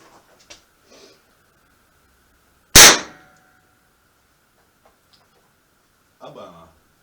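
A homemade Flobert blank-powered gun fires a 6mm plastic ball with a single sharp, loud bang midway through, amid quiet handling noises and brief murmurs.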